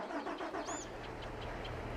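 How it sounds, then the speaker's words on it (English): An RBR Vector 380 tractor engine in Farming Simulator 22 cranks and catches, then settles into a steady, rumbling idle, close and fairly loud with no talking. "I can start engine in the shop"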